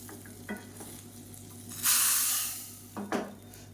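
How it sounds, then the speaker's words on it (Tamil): Tempering of mustard seeds, urad dal, cumin, dried red chillies, asafoetida and curry leaves poured into a pot of a diabetic-friendly dish, giving a loud burst of sizzling and hissing between a few soft stirring clinks, close up. "கடுகு, உளுந்து, சீரகம், வரமிளகாய், பெருங்காயம், கருவேப்பிலை போட்டு தாளிச்சதை இதோட சேர்த்துக்கலாம்"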